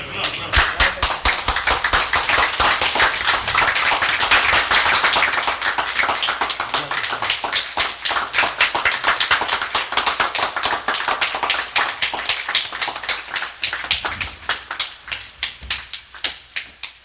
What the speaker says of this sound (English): So let us welcome the minister John Muhammad with a warm round of applause.